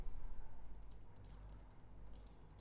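Faint, rapid clicking of keys being typed on a computer keyboard, a quiet irregular patter of taps close by over a low background hum.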